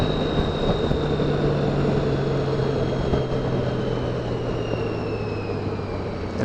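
Dad's motorcycle engine runs steadily, a constant low drone with a faint whine riding above it, loud and close throughout with no pauses or talk.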